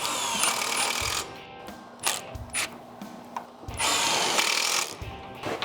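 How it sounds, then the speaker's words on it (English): An impact driver and a cordless drill whir in short bursts and pauses, close and loud, with rapid mechanical rattling as screws are driven into wood for a planter box trellis. "This is where it comes in handy to have both the impactor and the cordless drill."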